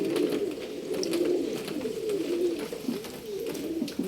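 Female pigeons kept for sale coo softly and repeatedly in a continuous low murmur, nearby, with no voices.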